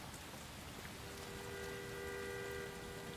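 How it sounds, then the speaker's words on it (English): Steady rain in the video game L.A. Noire, a dense, even hiss of falling drops that continues without a break, with a faint sustained tone partway through and no talking. "I love rainy weather."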